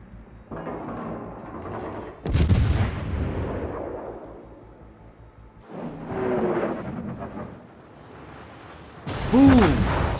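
Heavy naval guns fire in a World of Warships battle aboard the Genova, three deep booming salvos with long rumbling decays, the last the loudest, all without talk.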